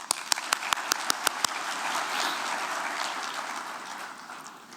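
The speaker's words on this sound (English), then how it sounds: "They deserve an applause." An audience at an AI conference breaks into applause: a few sharp individual claps open it, then a dense, fairly distant wash of clapping builds and slowly fades.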